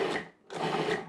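A food processor pulses guacamole or salsa ingredients in two short whirring bursts with a brief stop between, close and fairly loud.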